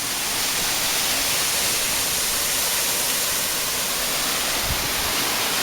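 A steady, loud roar of falling water from a waterfall in a Kauai, Hawaii jungle, an unbroken broadband rush filling the whole clip with no voices.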